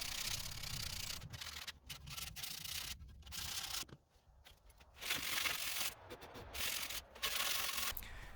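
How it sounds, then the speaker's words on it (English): A painted wooden sign box is sanded by hand in repeated rough scraping strokes, close and fairly quiet, with several short pauses between passes and no talk. "So, more sanding!"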